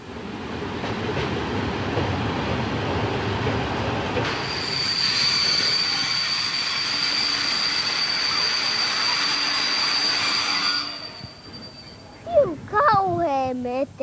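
A train passes through a railway station with a loud, sustained high-pitched wheel squeal over rumbling rail noise, then fades. A person talks briefly at the end.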